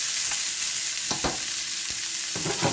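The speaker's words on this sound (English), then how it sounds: "We're going to go ahead and start letting the vegetables cook down some." Vegetables with garlic sizzling in a pan as they cook down, a steady loud frying hiss up close with a few soft stirring scrapes, no voices.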